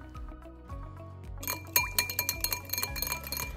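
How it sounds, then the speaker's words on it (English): A whisk clinks quickly and rhythmically against a bowl while mixing a salad dressing with salt, producing light, wet metallic taps that grow steadier after a quieter start. "and we'll give it a good whisk."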